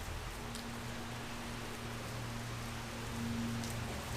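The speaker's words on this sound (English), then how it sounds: "Can you guys see this rain?" Steady rain falls outdoors at a skateboarding spot, a continuous even hiss of drops with a low hum underneath and no voices.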